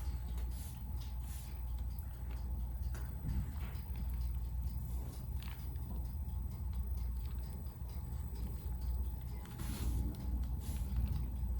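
A chiropractic flexion distraction table shifting under a patient, with low mechanical creaks and a steady machine hum at moderate distance.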